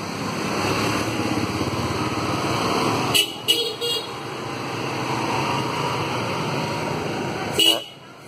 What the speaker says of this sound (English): People honking.